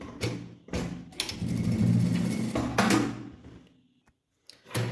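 Sewing machine stitching bias binding onto a small fabric backpack pouch, two short whirring bursts and then a longer steady run of stitching up close, ending in quiet.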